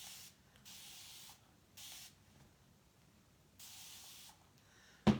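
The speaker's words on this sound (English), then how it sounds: "I'm going to just spray it." Four short bursts of spray from a pump bottle, each a soft hiss lasting about half a second, with quiet gaps between and a brief knock at the end.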